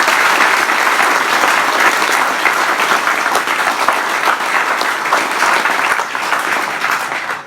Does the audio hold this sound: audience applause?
yes